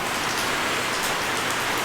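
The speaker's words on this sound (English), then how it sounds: "the rain's coming down pretty hard" Heavy rain pours down hard beside a Kitfox 5 aircraft under repair, a dense, constant hiss of falling water, loud and unbroken, with no voices.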